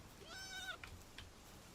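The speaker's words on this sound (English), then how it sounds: "The sheep walks funny and sounds funny." A sheep in the Palworld video game gives a single wavering bleat, clear and fairly close, followed by a couple of faint clicks over a steady game background with no talking.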